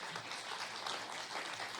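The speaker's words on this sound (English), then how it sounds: "All right, everyone clap again for Dennis Herbert," Audience applause at a live variety show, a steady broadband wash of clapping at moderate distance that fills the whole moment without a break.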